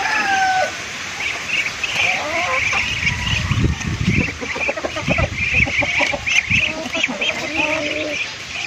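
Chickens and ducks kept as farm animals cluck and call in a busy, overlapping flock at close range during feeding on bananas, with occasional rooster-like calls among them and a person speaking briefly in the background.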